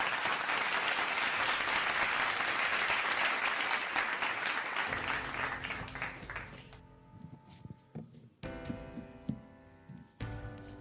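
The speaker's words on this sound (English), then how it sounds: "Let's give him a big round of applause." Audience applause welcoming the chief organizer at a cycling race press conference, a dense sustained wave of clapping for about five seconds that fades into a music bed with occasional remaining claps.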